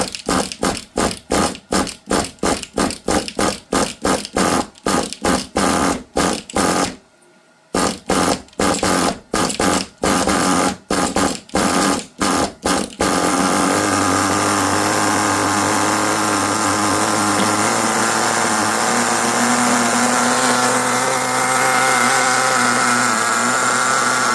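A Colt nitro 10 small nitro engine being tuned toward idle, first firing in rapid loud rhythmic bursts with a short gap, then settling into a continuous steady buzzing run.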